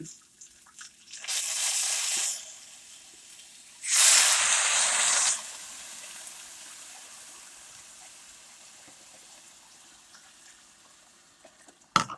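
Liquid poured into a pan for rice pilaf, about two and three-quarter cups: two short splashing gushes, each lasting a second or so, then a quiet stretch with faint residual trickle and a small clunk at the end.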